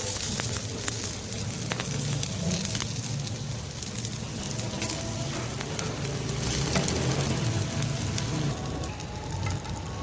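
A radish paratha fries in ghee on a hot pan, giving a steady, close sizzle with faint crackles. The sound runs continuously with no voices over it.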